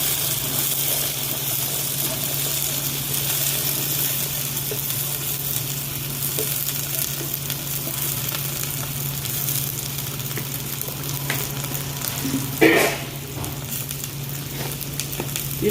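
Chopped onions and tindora (ivy gourd) fry in a pan with a steady, close sizzle that holds throughout, with a brief clatter of stirring near the end.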